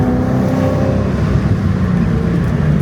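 A Nardon Porsche 928 climbs a hill on a hillclimb course, heard from inside as a steady, loud engine drone that holds unbroken throughout.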